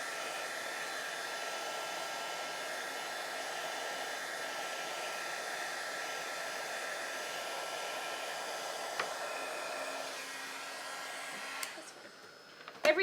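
A handheld heat embossing tool blows hot air to melt powdered plastic embossing powder, a steady, continuous whir like a hair dryer that holds unchanged for most of the clip before cutting off near the end.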